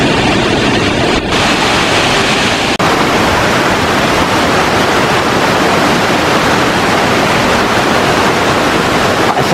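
Rainwater rushing down a hillside path after three days of heavy rain in the Chaîne des Puys volcanic hills, a steady loud broadband roar of flowing water spilling over the edges, continuous and close throughout.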